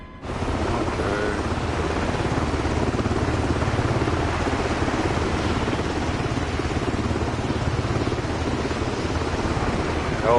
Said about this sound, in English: Helicopter on the helipad at night with Avatar out.